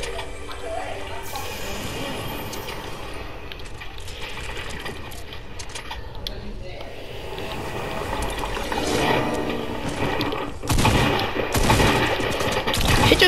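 Repeated gunshots and rattling automatic fire in a shooter video game, steady then heavier bursts toward the end, with voices chatting underneath.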